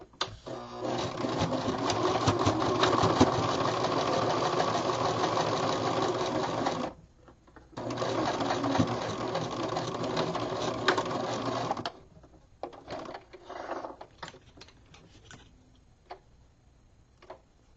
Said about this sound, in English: I'm going to sew mine at a 1/2 inch seam allowance, just sewing straight across